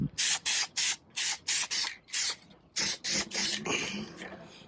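Spray gun laying a first coat of sealer onto VW bus engine tins, a series of about a dozen short, even hissing bursts in a steady rhythm, close and loud, ending in a fading hiss.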